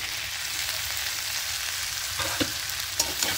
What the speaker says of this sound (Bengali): এবার এখানে ভেজে রাখা চিংড়ি মাছগুলো দিয়ে দেবো